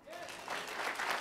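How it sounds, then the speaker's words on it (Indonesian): A church congregation bursts into clapping, a short swell of dense applause that grows louder over about a second, following a brief sung or spoken tone at the start. "Yang setuju tepuk tangan."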